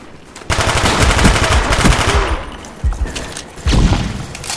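Rapid automatic gunfire rings out in Call of Duty: Black Ops on the WMD map in team deathmatch, loud bursts of close shots that stop, pause and start again.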